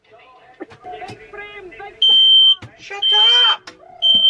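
Inside a caravan, a smoke and CO2 alarm gives three loud, piercing beeps that interrupt voices talking and shouting close by.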